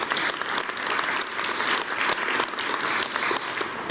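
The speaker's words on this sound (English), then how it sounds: "Please give them an applause." A crowd at a city State of the City address in Pueblo gives the police and fire department color guard a hearty round of applause, dense and sustained throughout, close and loud with no speech over it.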